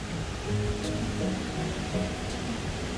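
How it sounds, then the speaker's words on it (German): Waterfall in the Nozon gorge, a steady broadband rush of falling water that stays even and fairly distant throughout, with no voices. "Ah, das ist schon der Wasserfall,"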